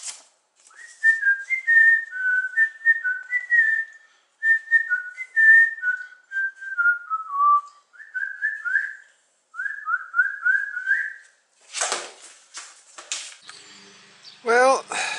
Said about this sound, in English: He whistled all the way there, and he whistled all the way home.